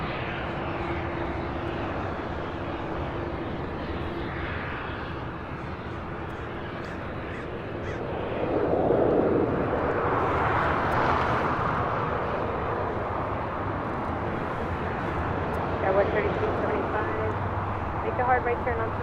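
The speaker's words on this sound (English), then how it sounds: "This is Philippine Airlines 113 taking off to Manila on a 777" A Philippine Airlines Boeing 777-300ER takes off from LAX, its jet engines building to a broad, steady roar that swells around midway and holds, with radio voices and talk running over it.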